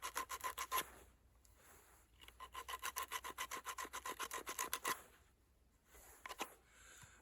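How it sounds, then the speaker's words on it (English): Coarse sandpaper rasps against a wooden Indian club in quick back-and-forth strokes, close and quiet, coming in rhythmic bursts with short pauses between them. "With the coarse sandpaper before I go to the finer sandpaper."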